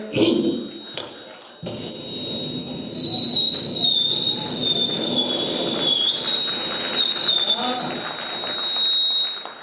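A performer's whistle imitating an airplane landing at a poetry recital event, a long sustained high whistle gliding slowly downward and wavering, loud and close over a murmuring crowd background.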